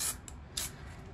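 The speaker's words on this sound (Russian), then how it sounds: "И дверь пока слегка вот так вот тоже напылим." Short hissing bursts from a spray paint can as a 1:10 scale RC Kirovets K700 tractor model is painted, two or three quick puffs close by.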